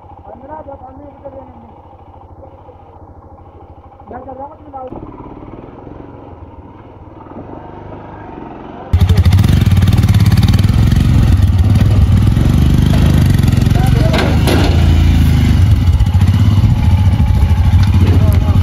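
A motorcycle engine starts up loudly partway through and then runs at a steady, rough idle close by, after a quieter stretch with people talking.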